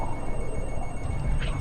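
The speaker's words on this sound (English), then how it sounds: "And I've got to answer the phone." A telephone rings steadily in a room beneath a dense low hum, its tone continuous and fairly loud throughout.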